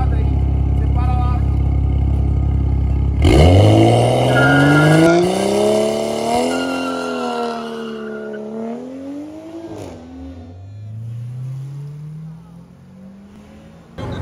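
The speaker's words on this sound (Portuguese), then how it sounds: "vocês viram o borrachão que essa M235 fez?" A BMW M235 car revs hard and does a burnout, its tires squealing loudly in a long rising and wavering screech close by after an idling engine, then fading as it pulls away, with people talking.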